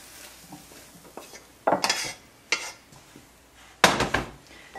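Ceramic dishes and a metal utensil clink and clatter as stir-fried greens of zucchini, courgette and kale are transferred from a pan into a bowl, with several sharp, loud knocks spaced irregularly over faint background noise.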